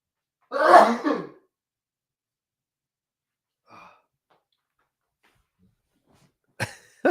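One close, stifled sneeze bursts out near the start, followed by near silence and a couple of faint, short sounds later on.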